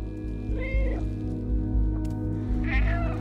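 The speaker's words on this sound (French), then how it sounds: "Le fait que ça réagisse au miaulement là" A cat in the video game Stray gives two clear meows, one early and one near the end, over a steady low hum of background game ambience.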